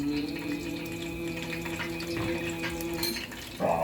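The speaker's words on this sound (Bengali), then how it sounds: "এবার আমি এতে দিয়ে দিচ্ছি কেওড়ার জল" Kewra water poured into akhni in a pot, a steady trickling liquid sound with faint tonal ringing from the vessel and a small clink near the end.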